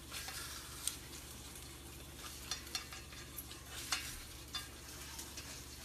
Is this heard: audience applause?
no